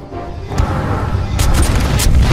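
Video game gunfire in UnEpic: a short burst of dull booming shots and impacts, loud and close, rumbling over a low background.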